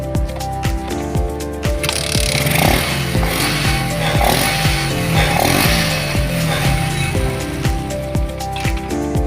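A motorcycle engine with a diaphragm-type carburetor, its clogged jets just cleaned, runs loud and close in a steady, rough putter with a sputtering, uneven rhythm.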